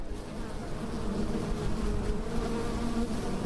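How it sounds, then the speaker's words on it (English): Dense, continuous buzzing of a swarm of bees, a thick droning hum that stays loud and close throughout without pause. "There's our swarm of bees."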